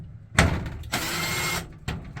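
A loose screw is turned out with a few short bursts of gritty, ratchet-like scraping: a sharp click, then a longer grinding turn, then another brief twist, close and quiet with no voices.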